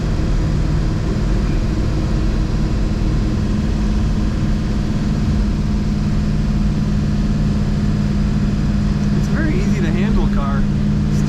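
A 1963 Studebaker Avanti R1 cruising at 55 mph, with a steady, loud interior drone of engine and road noise throughout and a brief voice near the end.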